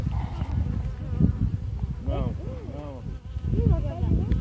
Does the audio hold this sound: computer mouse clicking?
no